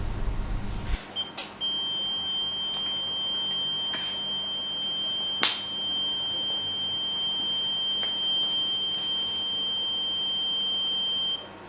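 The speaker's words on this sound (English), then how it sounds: "Apart from hearing the alarm, we can also see the relevant indicator lights on both the head and the unit" Reconditioned smoke detector heads under test sound a continuous high-pitched alarm tone, steady and loud throughout after a brief thump at the start, with no talking.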